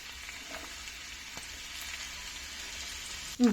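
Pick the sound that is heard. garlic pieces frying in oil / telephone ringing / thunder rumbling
garlic pieces frying in oil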